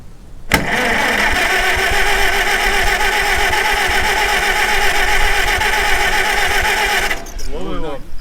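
A 1948 McCormick-Deering W-4 tractor engine turns over abruptly and runs with a loud, steady clattering drone for several seconds before cutting out, and a voice speaks briefly at the end.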